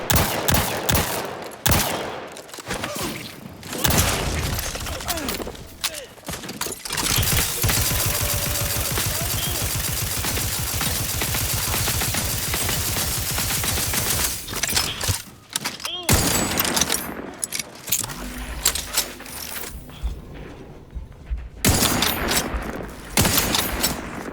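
Sustained heavy gunfire in a sci-fi shooter game, with bursts of automatic fire and rapid shots, loud and dense, broken by short pauses and scattered impacts.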